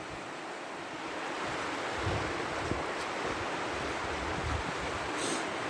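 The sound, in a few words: river rushing below a forest trail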